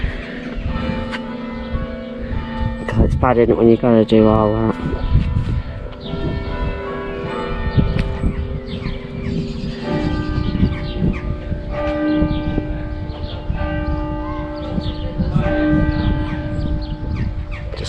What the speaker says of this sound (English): Oh, there's the bells again.